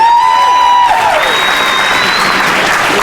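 A crowd at a combat-sports weigh-in claps for a fighter, dense sustained applause that fills the moment, near and loud, with some voices mixed in.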